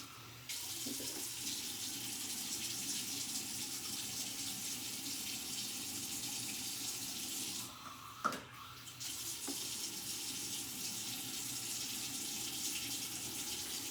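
Water runs steadily from a tap, a continuous hiss with a brief clunk and pause partway through.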